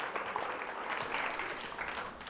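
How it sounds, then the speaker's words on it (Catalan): A studio audience at a televised spelling game show claps for a contestant, a brief, fairly faint wash of many hands lasting a couple of seconds with no talking over it. "I t'aplaudim."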